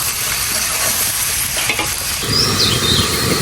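Vegetables and banana plant fry in a pan with a loud, continuous sizzle close by, broken by a few stirring scrapes and a brief squeak near the end.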